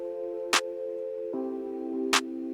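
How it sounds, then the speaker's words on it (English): Simple clap sample in an FL Studio drum beat: two sharp, bright claps about 1.6 seconds apart, cutting loudly over sustained keys chords, no voices. "The first thing I did with the drums was adding the clap to it."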